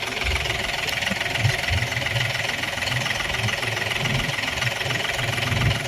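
A tractor engine runs steadily at a low idle-like chug, pulling a trailer loaded with sand; the rumble is continuous and moderately loud with uneven low knocking pulses throughout, and no talking.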